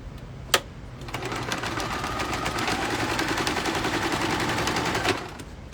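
A sewing machine stitches down the second side of a fabric pouch, a rapid, steady close-up clatter running for several seconds, starting and stopping with sharp clicks, with no talking.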